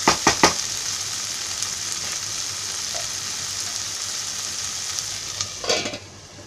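Tomatoes frying in oil with onions for a Konkani oyster fry make a close, constant bright sizzle, opened by a few sharp spoon knocks and later a scraping stir, with no voices.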